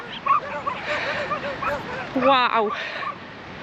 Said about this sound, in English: that is one leery pack of street dogs